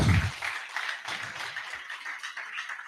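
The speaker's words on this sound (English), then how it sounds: "I thought you would clap." Scattered audience clapping at a lecture, a modest crowd applauding at moderate volume after a low voice at the start, the claps steady but thin.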